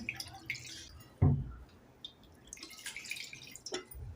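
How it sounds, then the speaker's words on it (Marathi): Rice being rinsed by hand in water: soft sloshing and squishing with scattered drips and one sharper splash, heard up close and without speech. "पहिल्यांदा आपण तांदूळ तीन चार पाण्याने स्वच्छ धुवून घेऊया"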